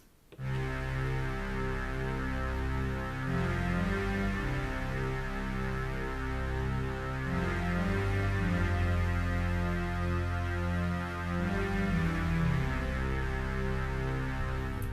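A lush Roland JD-Xi synthesizer octave strings pad plays sustained chords that shift slowly, full and continuous with a layered octave sound, with no voices.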